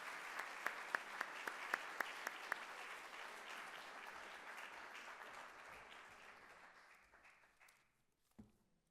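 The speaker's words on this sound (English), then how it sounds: "I just want to give our panelists a round of applause" Audience applauding panelists at the close of a housing access and affordability symposium panel, a steady wash of clapping with a few sharp individual claps early on, gradually thinning and fading out.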